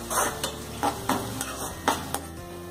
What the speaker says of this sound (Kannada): ಈರುಳ್ಳಿ ಸ್ವಲ್ಪ ಗುಲಾಬಿ ಬಣ್ಣ ಬರೋವರೆಗೆ, ನಸುಗುಂಬು ಬಣ್ಣ ಬರೋವರೆಗೆ 1-2 ನಿಮಿಷ ಫ್ರೈ ಮಾಡಬೇಕು